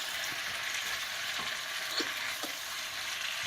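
Pre-cooked vegetables stirred in a pan, a steady soft sizzle with a few faint scraping strokes spaced through it, close and quiet, no talking.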